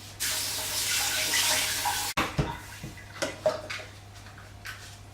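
Running tap water rinses a small activated-charcoal filter from a water distiller, a steady broadband rush for about two seconds that cuts off abruptly, followed by a few brief clinks and knocks as the part is handled.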